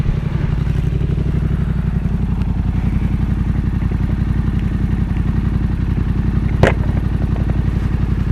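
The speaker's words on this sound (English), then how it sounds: "Let you have a look at it while the engine's running." A Yamaha XSR700 with an SC Project exhaust runs steadily at idle close by, a deep, loud, even pulsing throb with a rattling edge and one brief sharp click partway through.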